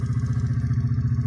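A motorcycle engine with a 72cc big bore kit, new head, barrel and piston, and a carburetor conversion idles close by with a quick, steady pulsing beat and a light tappet tick on top.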